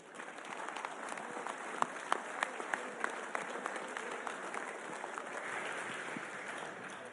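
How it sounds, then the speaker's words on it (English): Audience applause at a UK dairy expo cattle show, a big round of clapping for the cow breeders and exhibitors, steady and fairly distant across a large hall, with a few sharper claps standing out. "give the breeders and exhibitors of these great cows a big round of applause."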